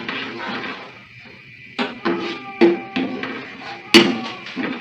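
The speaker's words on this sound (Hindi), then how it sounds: "पनीर डालने के बाद हम इसमें आहिस्ता से चम्मच चलाएंगे और बहुत धीमी आंच पर इसको भून लेंगे।" A spoon scrapes and clinks against a pan as paneer is slowly stirred over very low heat, several distinct close knocks spaced irregularly over a faint background.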